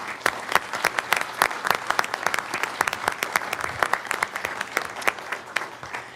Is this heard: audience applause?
yes